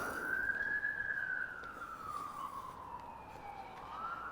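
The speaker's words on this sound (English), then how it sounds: "Sirens." Emergency vehicle sirens wail in the distance, faint but clear, in Albert Park in Regina with city street noise underneath.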